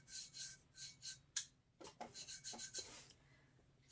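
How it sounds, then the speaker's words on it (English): A hand rubs and presses loose glitter flat against the surface of a wine tumbler during tack-it and epoxy crafting, a series of soft dry rasping strokes in short bursts, close and quiet, with no talking. "When you're rubbing it, it's laying the glitter flat."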